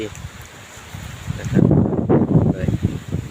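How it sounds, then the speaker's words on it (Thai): Strong wind gusting across a rice field and garden on a farm in the cold season, roaring and buffeting the microphone in surges that grow louder midway, with leaves rustling. "ลมแรง ลมแรงด้วย แรงด้วยนะเอฟซี อยู่ที่นาที่สวนลมแรงบรรยากาศดี"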